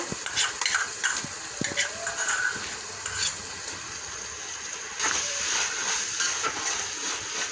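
A spoon scrapes and clinks steadily in a cooking pot as a kuska rice mixture is stirred over a soft continuous sizzle, with repeated close metallic taps.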